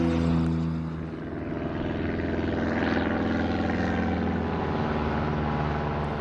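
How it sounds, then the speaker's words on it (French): Propeller airplane drone, steady and fairly loud throughout, with a broad rising-and-falling swell as the aircraft seems to pass, no voices. "Le garçon embarqua dans un avion en direction du Japon."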